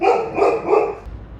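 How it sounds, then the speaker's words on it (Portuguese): A dog nearby barks three times in quick succession, loud and sharp, then falls silent, with no talking. "Pausa no vídeo por motivos de cachorro."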